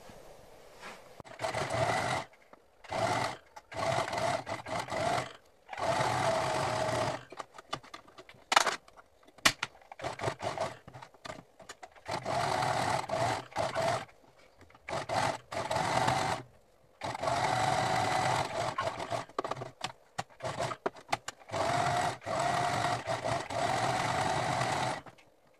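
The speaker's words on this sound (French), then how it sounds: "Et donc là on repasse sur la machine." A sewing machine topstitches around a bandana in bursts of fast mechanical whirring, starting and stopping repeatedly with short pauses between runs, close by and moderately quiet, with no talking.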